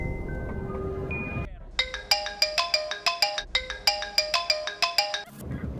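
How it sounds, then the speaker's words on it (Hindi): A mobile phone ringing for an incoming call: a repeating bright electronic ringtone melody of quick plucked notes, loud and close, following a few seconds of voices and background music. "पापा का फोन आ रहा है"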